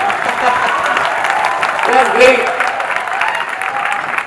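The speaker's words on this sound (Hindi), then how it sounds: "आप सब अपने लिए एक जबरदस्त तालियां बजाइए" A live crowd at a motivational speech event applauds steadily throughout, a dense sustained clapping that swells slightly midway, with a brief spoken word heard over it.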